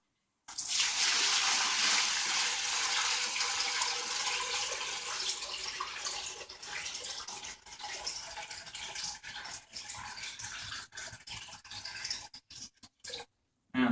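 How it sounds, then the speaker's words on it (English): Water pours steadily into a tank with a draining hole, filling toward a marked level; a continuous loud splashing rush that thins and breaks up near the end, with no talking. "Again, I'm putting the water up to the 10 centimeter mark."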